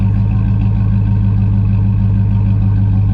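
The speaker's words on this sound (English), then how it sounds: "You hear the nice grumble from the exhaust." A 2007 Chevrolet Silverado overland build idles through its exhaust, a steady, close, deep grumbling rumble holding even throughout.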